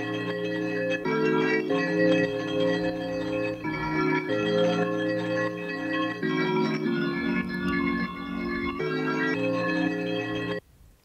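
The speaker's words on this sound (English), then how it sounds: "So the sample that we're using is the Speakeasy Loop 7," Speakeasy Loop 7 from the Stolen Drums sample pack plays alone as a steady, loud loop, with dense tonal layers that reset in repeating sections about every two and a half seconds before it cuts off near the end.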